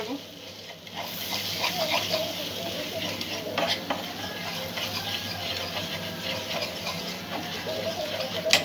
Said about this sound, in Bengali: ভালো করে মাখনের সাথে এটা মিক্স করে নেব।